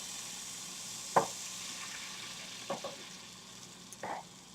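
Faint stirring and scraping of chicken leg quarter drippings in a pan with low-sodium chicken broth, over a soft background hiss, with a few brief scrapes spaced a second or more apart.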